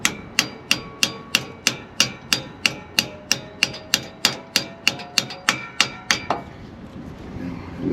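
Steady hammer blows drive a stuck engine lifter down on a 1968 bus, about sixteen sharp, evenly spaced metallic strikes ringing close and loud over roughly six seconds before stopping, with no talk.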